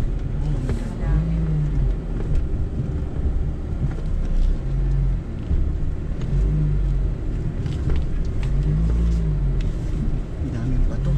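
A first-generation Toyota RAV4 crawls off-road across a rocky river, its engine rumbling low and steady with splashing and surges throughout, while people talk over the noise.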